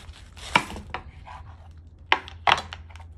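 A knife chopping through a large head of cabbage on a cutting board, several crisp separate cuts spaced irregularly, close and clear with no talking.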